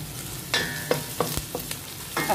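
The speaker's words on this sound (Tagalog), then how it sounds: "Sauté lang natin ng 2 minutes bago natin isunod ang ating kamatis." Garlic and onion sautéing in a pan, a steady low sizzle broken by several sharp scrapes and clatters of a utensil stirring, close and fairly loud with no talk.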